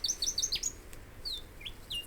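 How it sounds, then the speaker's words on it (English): A noisy scrub-bird, a small, solidly built Australian bird, calls in a rapid run of sharp, high chirps, then gives a few separate upslurred whistles. It sounds fairly close and clear against faint background hiss. "The noisy scrub bird is small and solidly built, but can fly only short distances."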